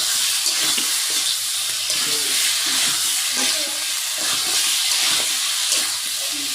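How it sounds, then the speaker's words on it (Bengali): Taro frying in a pan, a steady bright sizzle and crackle running throughout at close range, with faint clinks underneath. "কচুটা কিন্তু আমি একদম সুন্দর করে বসাই নিলাম, ভাজা ভাজা করে একদম"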